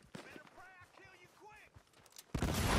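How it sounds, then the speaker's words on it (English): Gunfire from a character called PEEPAW in a war game, a loud dense burst of shots bursting in at the end after excited speech. "Oh shit, PEEPAW's shooting!"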